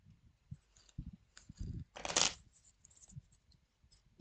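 Board game cards being handled and shuffled on a table, scattered soft taps and slides building to one brisk riffling burst, then quieter card handling, close and without talk.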